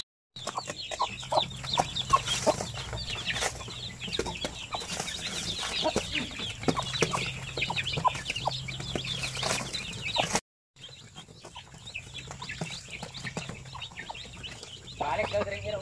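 Native chickens and a rooster on a backyard farm clucking steadily, with overlapping hen calls and brief wing flaps, a short gap near the end, and a voice speaking intermittently underneath.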